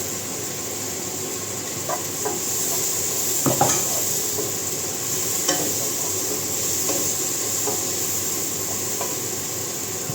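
Mushrooms frying in oil in a pan, a steady loud sizzle throughout with a few scattered scrapes and knocks from stirring and no voices.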